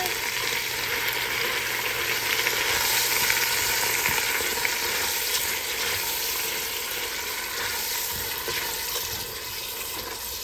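A pot of spaghetti sauce and diced tomatoes bubbles and sizzles hard on high heat, making a loud, continuous hissing roar with the stirring barely distinguishable beneath it.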